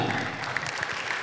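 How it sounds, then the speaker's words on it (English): Brief burst of audience applause for award winners, a dense, even patter of many hands clapping at moderate loudness with no speech over it. "Please give a warm round of applause to"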